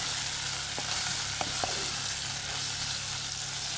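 Cod loin and squid fry in a pan with a steady, close sizzle and a few faint clicks of a utensil against the pan.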